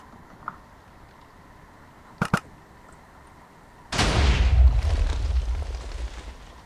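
A Minecraft cannon fires at long range: a couple of quick sharp clicks, then a loud, close boom that rolls on as a long rumbling blast.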